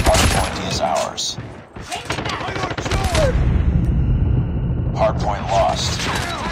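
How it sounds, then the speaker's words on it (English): Predator missile strike and gunfire in a hardpoint match of a multiplayer shooter game: bursts of rapid gunfire and heavy booms, with radio-style game voice callouts over the top. "Friendly predator missile inbound."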